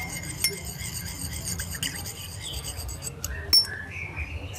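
A spoon clinks against a dish while lime juice is stirred in, giving a few faint metallic ticks and one brighter clink over a quiet background hum.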